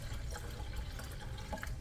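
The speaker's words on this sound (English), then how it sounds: "I like to pour the water in there when I can see." Water pours steadily into a pressure canner holding jars of green beans, a continuous low splashing and trickling with a few brighter drips on top, close and moderately quiet, with no talk.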